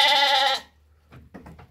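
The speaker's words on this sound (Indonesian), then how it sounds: "Dan ini domba-domba dari tuan rumah." A host's sheep on a farm in Cipancar, Subang, bleats once, loud and close, in a long wavering cry. Quiet shuffling and faint scattered farmyard sounds follow.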